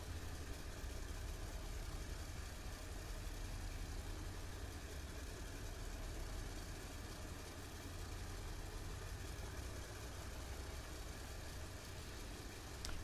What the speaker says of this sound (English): I'm putting power on the right-hand engine